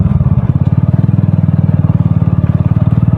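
A 2009 model motorcycle ridden along a road, its engine close and loud with a fast steady putting pulse and a deep rumbling idle-like throb throughout.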